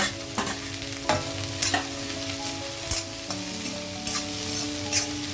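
Capsicum and green chillies fry in a pan with browned onions, making a loud, continuous sizzle. A spoon scrapes and knocks the pan at intervals to stir them. No one speaks.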